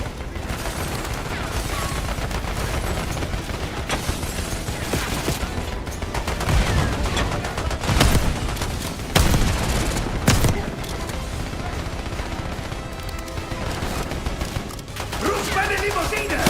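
Sustained gunfire and bursts from the video game Call of Duty: Black Ops 6, loud and continuous for the whole stretch, with heavy booms and voices in the game mix.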